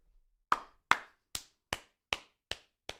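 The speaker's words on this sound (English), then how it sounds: "We're not clapping for the injury." Seven sharp, close hand claps ring out on a talk-show set in an even, unhurried rhythm, each one crisp and distinct against silence, with no speech.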